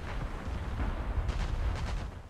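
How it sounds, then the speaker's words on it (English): Warship secondary guns firing at aircraft in War Thunder naval combat, a steady low rumble of repeated gunfire with several sharper bursts toward the end, continuous and moderately loud with no voices. "we're going to set our secondaries to fire at aircraft only"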